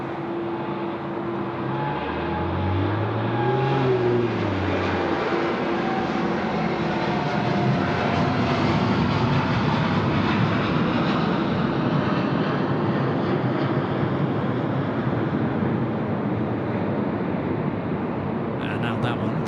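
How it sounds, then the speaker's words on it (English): A Boeing 787 on its night takeoff roll on runway 34 left at Sydney Airport gives a steady, broad jet roar that holds throughout, with a rising engine whine at the start, heard from a distance. "the 787 rolling now"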